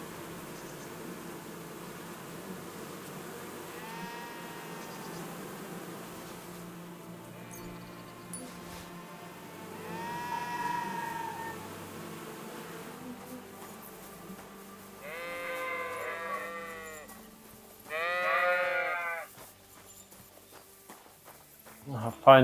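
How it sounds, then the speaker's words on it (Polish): Sheep in Kingdom Come Deliverance II bleat several times, spaced apart, with louder overlapping bleats near the end. Soft footsteps and hoof clops sit underneath. "Mamy tu barany, owce. We have your sheeps. And the male sheeps."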